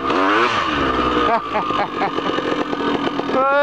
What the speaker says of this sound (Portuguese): Acelerar não sai do lugar.